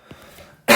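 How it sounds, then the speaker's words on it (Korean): A single short, sharp cough from a man with a cold bursts out loud at the end, after a brief faint throat sound and near silence. "감기가 걸려가지고 기침이 자꾸 나와서 중간중간 시끄러울 수 있다는 거 너무 미안합니다"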